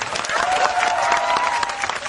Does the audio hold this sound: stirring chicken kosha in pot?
no